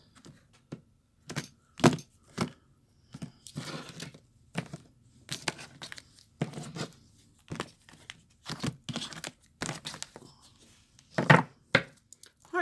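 A deck of tarot cards being cut and shuffled, close, with repeated crisp riffling and slapping bursts in an irregular rhythm and quiet gaps between them, no talk.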